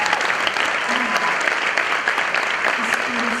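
Audience applause at a TEDx conference in Bergen, a loud, sustained, even roar of many hands clapping, with faint voices in the background.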